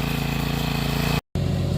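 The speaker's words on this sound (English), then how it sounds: "He's mowing the area we cleaned off yesterday." A lawn mower runs with a loud, steady engine drone while mowing a freshly cleared garden area on a hillside farm. The sound cuts out briefly, then resumes.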